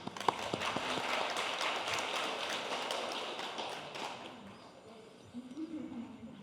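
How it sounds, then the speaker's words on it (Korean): Audience applause at a Buddhist lecture on mind training, a dense, even burst of clapping that holds for several seconds and then fades, with a voice starting to speak as it dies away. "예, 인사하시고 박수 한번."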